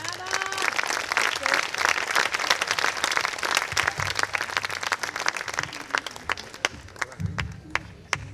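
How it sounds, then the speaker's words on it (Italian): An audience applauds at a town talent show in Ficarolo after a singer finishes, a dense steady round of clapping with crowd noise that thins toward the end, and music swells briefly early on. "Un applauso."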